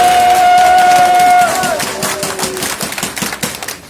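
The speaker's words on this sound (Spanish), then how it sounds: "Un fuerte aplauso por las asociaciones de Mali." A crowd at an outdoor rally claps for the associations of Mali, a dense, loud patter of hands that follows a sustained whistle-like tone at the start.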